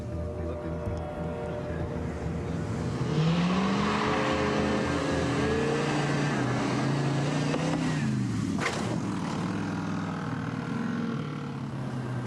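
A stunt car's engine revs and roars during a test jump run, a loud sustained drone with rising and falling pitch and a sharp burst near the end.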